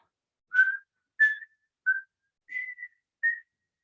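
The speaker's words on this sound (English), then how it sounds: "I can whistle happy birthday." Five short clear whistled notes of Happy Birthday, spaced evenly with silence between, close and alone.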